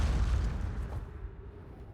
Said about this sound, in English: We have some explosions.